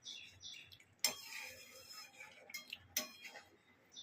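A spoon stirs thick doi katla curd gravy in a pan, with light metallic scrapes and taps that come in short, uneven bursts, quiet and close, while faint talk sits underneath.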